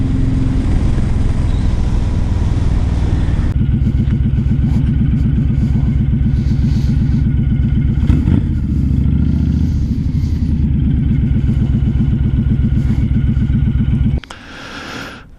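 A 2016 Honda Fury cruiser motorcycle rides along with a loud, steady mid-pitched engine drone and some clatter, then slows as it pulls up and the engine note drops away near the end.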